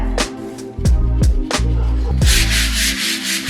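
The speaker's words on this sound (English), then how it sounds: "I came back in with a 400 grit and I started to sand those areas" Sandpaper of 400 grit is rubbed back and forth over wooden stair treads in a steady series of strokes, each a scratchy swish with sharp starts, fairly loud and close, ending in a continuous rough rubbing.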